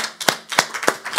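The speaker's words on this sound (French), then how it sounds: "Donnez-vous un petit peu de l'applaudissement." A small audience at a lecture on women and Buddhism gives brief applause, a few sharp, fairly loud claps in an uneven rhythm, close and dry, with no voices.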